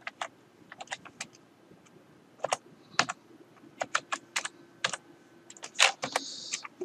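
Keys tap on a computer keyboard while text is entered in Photoshop, in quick irregular clusters of close, crisp clicks with short pauses between bursts and no talking.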